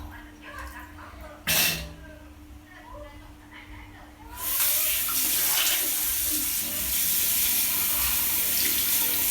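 Water running from a tap while someone washes up, a steady close gush that swells louder halfway through, with a brief sharp burst earlier and voices speaking over it.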